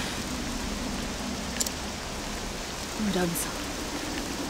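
Steady, dense rain falling in the video game Octopath Traveler 2, a constant hiss filling the whole stretch while a voice speaks briefly over it.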